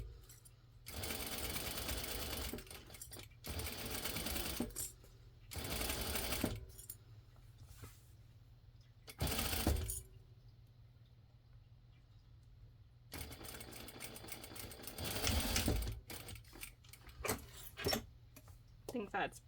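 A sewing machine stitches across the straight top edge of a fabric Christmas stocking made from a cat-themed pattern, running in several close, loud bursts separated by short pauses, with a steady low hum underneath.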